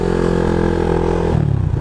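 A motorcycle engine runs close by, a steady throbbing drone that shifts in pitch and roughens near the end, with no voices.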